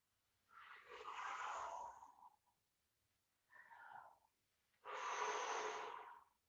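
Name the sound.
big breaths during a hip exercise session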